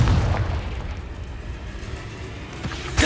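Confringo fire spell blast in Hogwarts Legacy, a deep rumbling explosion with bursts at the start and end, loud and continuous throughout.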